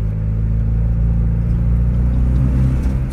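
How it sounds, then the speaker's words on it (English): Car engine running with a muffler delete, a loud, deep, continuous rumbling drone with a steady low throb, close up and without talk. "this muffler delete is so loud"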